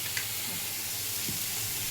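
Fish fried in a pan with no oil, just a little salt, giving a soft steady sizzle with a faint scrape of stirring, alone and close.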